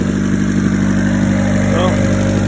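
A turbocharged Honda Civic engine idles steadily up close with an exhaust leak at the downpipe, a low rumbling drone with slight fluctuations and no speech.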